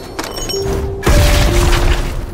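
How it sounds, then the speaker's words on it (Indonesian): A grenade detonates in a film scene, a sudden low boom that swells out of tense ambient sound and tonal hums, followed by a heavy rumbling tail. "Seketika, granat itu meledak"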